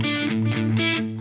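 Heavily distorted electric guitar tone from a Line 6 Helix, dialed toward a signature sound: a loud, thick sustained chord that swells and fades, playing alone.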